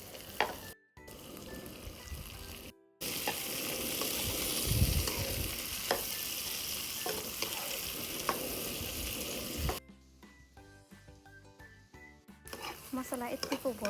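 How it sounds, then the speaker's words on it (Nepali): Tomatoes sizzle and fry in a pan with cashews during butter paneer cooking, a steady loud crackle with stirring, broken by brief silent gaps and a quieter stretch near the end, with a voice speaking over it. "एकछिन भुटिसकेपछि अब हामी टमाटर हाल्छौँ।"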